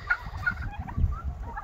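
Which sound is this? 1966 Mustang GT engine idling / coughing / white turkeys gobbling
white turkeys gobbling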